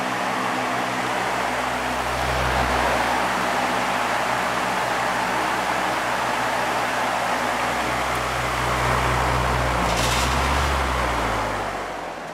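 A 1970s Lakewood HV 18 fan runs on low speed with a steady broadband whoosh of moving air and a deep low motor hum, with a slight swell around the middle and near the end.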